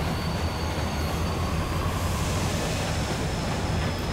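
Rolling train noise from the video game Killer is Dead, a steady broadband rumble of wheels and carriage running continuously and fairly loud throughout, with a faint high whine above it.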